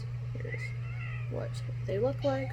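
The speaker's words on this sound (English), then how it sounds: "Sorry for the cats being crabby towards each other" Two indoor cats trade short, strained yowls and meows close to the microphone over a steady low hum, with a person talking quietly at the same time.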